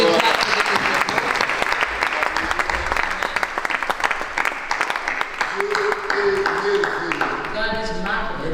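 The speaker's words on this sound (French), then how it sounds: "And de we gloire. clap for the King of glory." A church congregation claps and cheers steadily and loudly throughout, with voices mixed into the applause.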